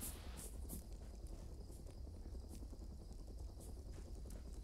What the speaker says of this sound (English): Is that a KA-52? The heli?